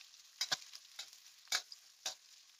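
Whole spices and finely chopped onion frying in oil, giving a faint, steady hiss broken by a few sharp crackling pops spaced about half a second apart.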